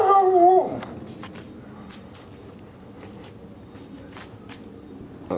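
A husky reacts to hot air balloons with a brief howl at the start, then soft whimpering and yips over a low, steady background rumble.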